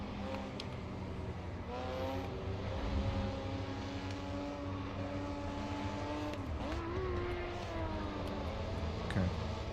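Honda NSX racing car engine heard from outside in Assetto Corsa EVO, a steady mid-distance drone with harmonic tones that rise and dip as the car accelerates and shifts, fairly quiet with no talking.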